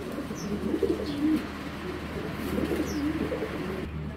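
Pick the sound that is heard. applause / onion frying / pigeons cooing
pigeons cooing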